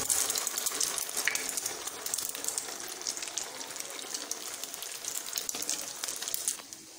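Egg-dipped aloo tikki patties fry in a pan, a steady close crackling sizzle with scattered pops running throughout and no voices.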